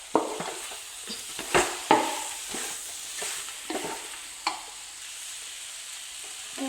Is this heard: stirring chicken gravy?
yes